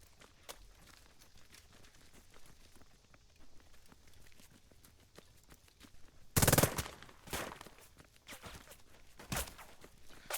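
Unit gunfire in the war strategy game Burden of Command: a few sharp bursts of shots, the loudest one midway, over a quiet low rumble with scattered faint clicks.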